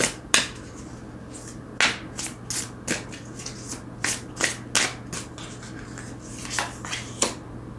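Tarot cards being shuffled close by, with soft papery riffles and sharp flicking slaps at an irregular pace over a faint steady hum, no talk.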